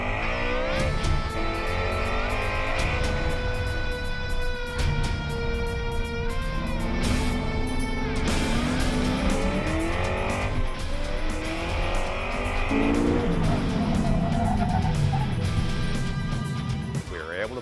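A race car lapping the track at Fontana, its engine revving up and down in sweeping harmonic wails with occasional tire squeal, heard under people talking.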